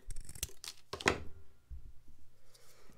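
Scissors cutting paper for a papier-mâché jack-o'-lantern: a few close, crisp snips and rustles, one louder cut in the middle, then faint handling noises in a quiet room.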